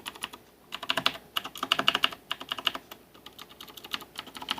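Quick, uneven bursts of keystrokes clatter on a Noppoo Spyder mechanical keyboard fitted with Kailh switches, close and crisp with short pauses between flurries.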